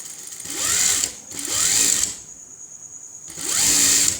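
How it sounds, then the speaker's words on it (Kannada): A sewing machine stitches along the side edge of a churidar in three short bursts, close and loud, with brief pauses between runs and no speech. "ಅಂಡಿಗೆ ಪೂರ್ತಿ ಎಜ್ಜಿಗೆ ಒಂದು ಸ್ಟಿಚ್ ಹಾಕ್ತೀನಿ"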